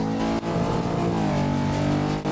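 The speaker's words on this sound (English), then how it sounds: "you want to rev it up even if you're not driving fast just because the car is screaming" A car engine in the racing video game Touge Attack revs hard and screams at high pitch, loud and close, swelling briefly before dropping off at the end with no voices.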